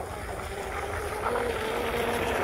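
A 25-plus-year-old MRP Bud Light RC tunnel hull boat converted to brushless power runs on open water, a steady high motor whine with hull and wind noise, continuous and fairly loud throughout.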